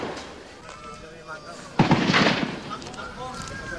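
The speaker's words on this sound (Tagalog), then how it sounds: "Umalingaw-ngaw mga putok ng kanyon" Cannon fire booming during an ongoing armed clash between military troops and Bangsamoro Islamic Freedom Fighters in Maguindanao: one loud, sharp blast with a rumbling tail, heard over a faint background murmur.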